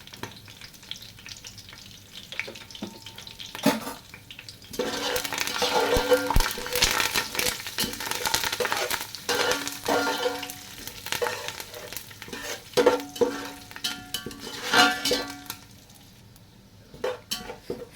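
Whole spices, curry leaves, cumin and asafoetida dropped together into hot ghee and oil for a tempering in a large-batch kitchen, crackling and sizzling loudly with a few stirring and pan clinks, no voices over it.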